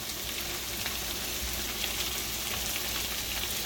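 Potatoes frying in a Red Copper skillet, a steady bright sizzle hissing continuously at moderate volume with faint stirring, no voices.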